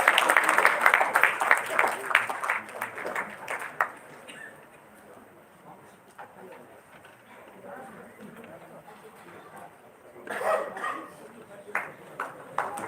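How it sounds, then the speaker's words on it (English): Audience applause at a live dental event, a lively burst at first that drops off after a few seconds, with a voice speaking in the quiet stretch and a brief second round of clapping later. "sir, a huge round of applause."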